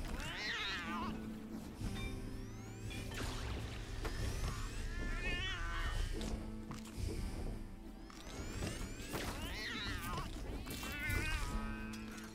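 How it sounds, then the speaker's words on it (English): Laser kitty enemies in the video game Death Must Die, repeated bleating meow-like cries rising and falling over busy game music and effects, with a voice talking at times. "Just gotta be aggressive against the laser kitties."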